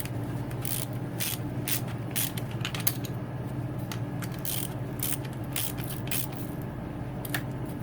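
Ratchet wrench tightening the shift detent bolt on a Yamaha YZ250 two-stroke, a run of quick clicking strokes in short bursts, close and steady over a low background hum.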